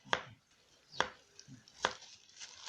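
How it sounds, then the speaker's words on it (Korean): Three sharp knife chops on a cutting board, evenly spaced about a second apart, close and crisp, as cucumber is sliced flat for dolnamul (stonecrop) water kimchi, with quiet gaps between strokes. "오이도 이렇게 납작납작하게 썰고"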